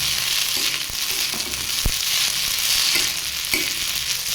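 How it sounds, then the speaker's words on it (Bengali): Sago, fried potatoes and tomato stirred in a hot pan: a steady close sizzle broken by repeated scraping spoon strokes against the pan, with no talking. "ভালোভাবে নেড়ে চেড়ে মিশিয়ে নেব।"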